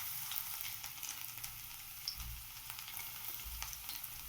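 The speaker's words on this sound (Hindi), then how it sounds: "जब तेल गर्म हो जाए तो इसमें लहसुन की कलियों को डाल देना है" Garlic cloves frying in hot mustard oil over a high flame give a bright, steady sizzle and crackle, close and continuous, with a couple of soft stirring bumps.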